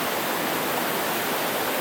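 Deep river water rushes across a trail crossing, a steady broadband roar that stays close and constant with no voices over it.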